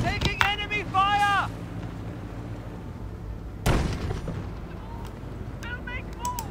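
Battlefield sounds from the World War II strategy game Company of Heroes: Tales of Valor, with a sharp gunfire or artillery burst midway amid rumbling combat noise, while game voices speak at the start and end.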